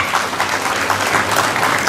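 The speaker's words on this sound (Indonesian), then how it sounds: "Tepuk tangan buat kita semua." A crowd of about 160 people at a Bio Chi Kong exercise gathering in a park gives steady, dense group applause for the full two seconds.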